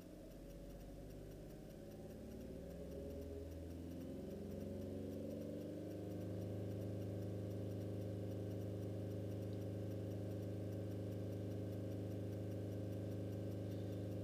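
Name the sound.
Skoda Fabia 1.2 diesel engine revving with no load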